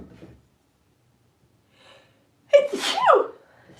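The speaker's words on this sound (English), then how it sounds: "Oh, I'm gonna sneeze." A single loud sneeze bursts out after a few seconds of near silence, sharp and close with a quick sharp intake before it and a falling tail after.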